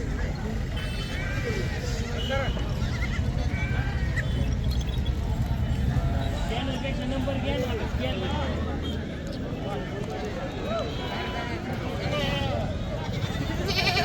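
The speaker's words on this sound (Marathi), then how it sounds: "बघा मित्रांनो उस्मानाबादी शेळ्या" Osmanabadi goats bleat over and over at a weekly goat market in Kalamb, Dharashiv, their calls mixed with steady chatter and background noise from many people.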